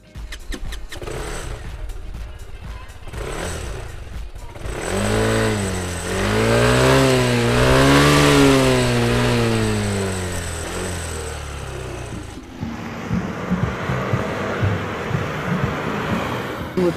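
A Kymco 300 cc single-cylinder engine on an Adiva AD3 three-wheel scooter pulls away briskly, its loud, close revs rising and falling through a smooth acceleration before settling back to a steady idle-like drone.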